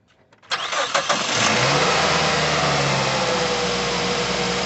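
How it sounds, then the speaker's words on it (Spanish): A 2006 Mazda3 with a 2.3 engine starts up: a brief cranking of the starter, then the engine catches and settles into a loud, steady idle close by, with no talk. "vamos a encender el carro"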